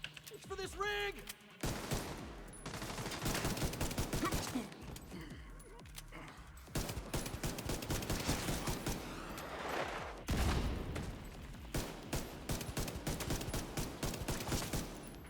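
Pistol fire in a video game, delivered as repeated bursts of sharp shots in quick, uneven volleys, fairly loud and close, with a brief pause near the start and a voice talking over part of it.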